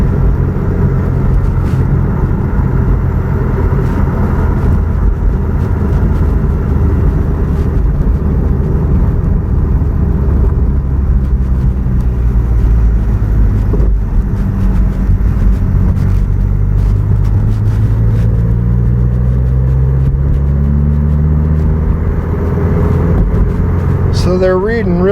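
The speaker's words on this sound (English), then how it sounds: "I'm going to get it under load. It's pulling. The boost is up." A 2017 Subaru WRX turbo engine pulling under load while driving, a loud continuous rumbling drone that rises steadily in pitch over about twenty-five seconds, heard from inside the car.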